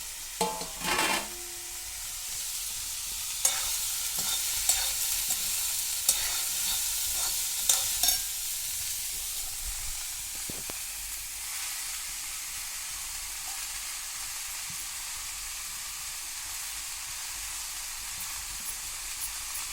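Radish greens sizzle and hiss in a pan over a wood-fired earthen stove, with a steady frying sound and occasional stirring clinks and scrapes.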